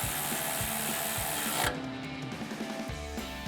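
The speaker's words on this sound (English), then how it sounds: "We're gonna thread this bolt in with a 12mm socket and tighten it down with a ratchet." A ratchet with a 12mm socket tightens a bolt during a Tacoma suspension lift install: rapid, close mechanical clicking and whirring, loud for the first second and a half, then quieter ratcheting clicks.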